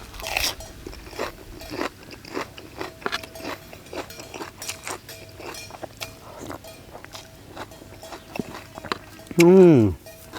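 Close, repeated crunchy chewing and biting of grilled squid tentacles, irregular crisp crackles, with a brief burst of voice at the end.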